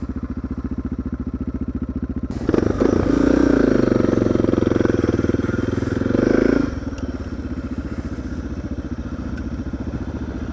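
A motorcycle engine idles on a country ride with a fast, even putter, then revs up for a few seconds to a louder roar before easing back to idle.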